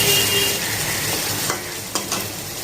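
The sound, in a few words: gently stirring katla fish curry frying in a pan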